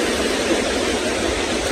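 Floodwater in Laos rushes steadily during heavy rain from Storm Noru, a dense, unbroken roar of flowing water with no voices.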